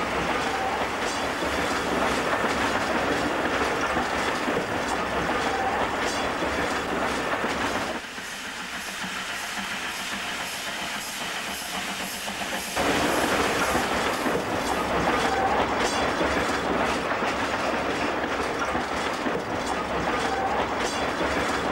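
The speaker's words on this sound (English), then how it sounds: "visiting New South Wales 3801, running parallel with the now-preserved DD-592 from Spearwood to Leighton Beach" Steam locomotives NSW 3801 and DD-592 running side by side between Spearwood and Leighton Beach, a continuous loud rolling roar with rhythmic clatter, briefly easing and darkening midway before swelling again.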